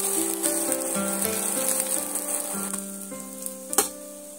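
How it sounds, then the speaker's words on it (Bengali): An egg omelette sizzles as it fries in a pan, with a steady crackling hiss under faint background music and a sharp clatter near the end; no one speaks. "ডিমটা আমার এখানে ভাজা হয়ে গেছে।"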